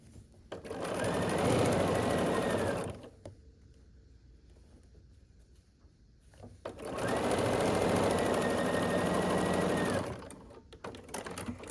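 A domestic sewing machine stitches quilt rows in two long steady bursts of rapid motor whirring and needle clatter, separated by a quiet pause of several seconds while the fabric is repositioned.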